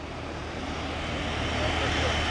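A Tornado military jet departing a runway, a broad, steady engine roar that swells slightly, heard from a distance with radio chatter over it.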